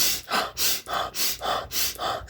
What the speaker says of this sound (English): Also, I do breathing practice, Wim Hof hyperventilation.